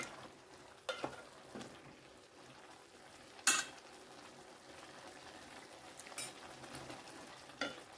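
Chopped brinjal being stirred into a vegetable mix in a pan, with soft scraping and stirring over a faint sizzle, punctuated by a few sharp clinks of a spoon against the pan.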